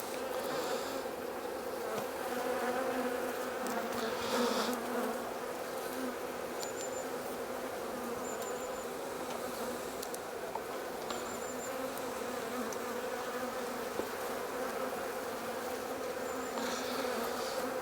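Honey bees hum steadily inside a winter hive with a queenless colony, a dense continuous buzz close up with occasional brief higher whines over it.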